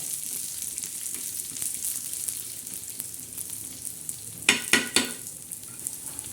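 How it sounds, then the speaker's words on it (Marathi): Black masala spices, including coriander seeds, dry-roasting in a pan, giving a steady soft sizzling rustle with a few sharp clatters of stirring near the end. No voices. "खमंग असा काळा मसाला आपला तयार होत आहे भाजत आहे"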